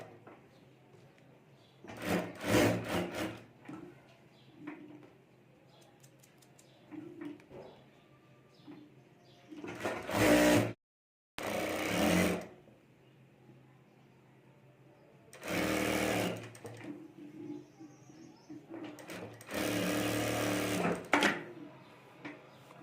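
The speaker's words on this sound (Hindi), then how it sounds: "और यहाँ से हमें सिलाई कर देनी है।" A sewing machine stitching the lining of a homemade handbag pocket runs in four or five separate bursts of steady whirring, each a couple of seconds long, with quiet pauses and handling noise between them.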